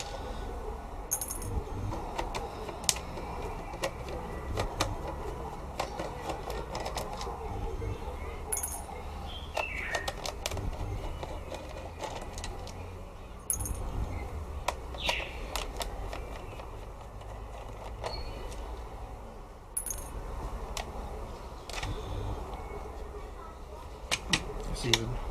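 A Famiclone console being unscrewed and taken apart: scattered clicks, taps and scrapes of a screwdriver and plastic shell parts, close up, with a steady low hum underneath.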